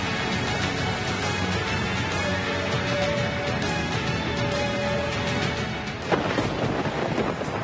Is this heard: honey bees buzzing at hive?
no